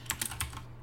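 A computer keyboard is typed on in a quick cluster of light, close clicks, four or five keystrokes, then quiet.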